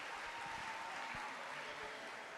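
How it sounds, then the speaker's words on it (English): Audience applause at a youth fair steer show, faint and distant, steady clapping lasting a couple of seconds with no talk. "Let's give them all a round of applause on a job well done."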